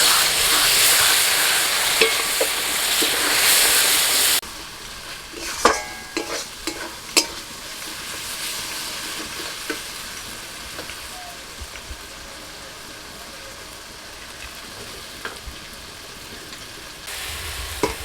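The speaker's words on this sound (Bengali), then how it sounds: "মশলাটা ভালোভাবে কষিয়ে নিয়েছি" Spice masala for a duck curry sizzles loudly in a pan at first, then settles into softer frying with scattered scraping clicks of a spoon stirring.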